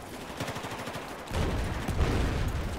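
Rapid bursts of automatic gunfire in a Battlefield 4 multiplayer battle, a quick rattle of shots followed by a louder, denser barrage of fire and explosions close by.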